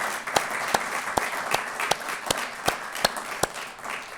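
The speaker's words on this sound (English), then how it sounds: "So you all deserve a big round of applause for that." A room full of people at a presidential workforce awards event applauds steadily. The clapping sounds dense and even, with a few louder sharp claps rising above the crowd throughout.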